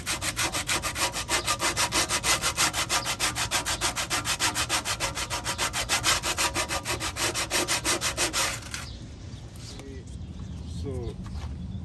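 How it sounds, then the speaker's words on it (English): Steady, dense buzzing rasp of a power sander working a surface during a 2010 Ford wheel hub bearing replacement, loud and continuous for several seconds before cutting off, leaving quieter background noise. "So this is a sander for basically the wood sanding"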